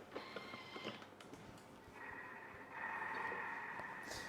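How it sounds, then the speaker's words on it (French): A Thermomix running at speed 7, its motor whirring up to a steady high-pitched spin that grows louder toward the end, heard alone at moderate volume. "Et là, il me demande de mixer 20 secondes."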